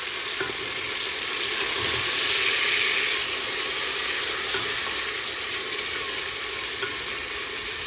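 Ginger garlic paste fries in a pot of hot oil, a steady loud sizzle and hiss that holds evenly throughout with no pauses.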